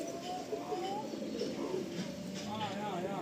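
A Madrasi pigeon coos in low, rolling phrases, audible under someone talking close by throughout.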